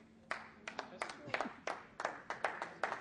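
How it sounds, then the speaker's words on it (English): A few people in a church audience clap scattered, uneven claps during a sermon, faint and sparse over a quiet room. "I got a couple of claps"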